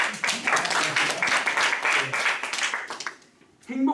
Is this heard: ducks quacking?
no